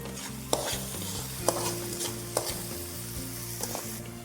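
Onions being sautéed and stirred in a pan until brown, for Kozhikode-style stuffed squid: a steady close sizzle with a few sharp scraping knocks of the spoon against the pan.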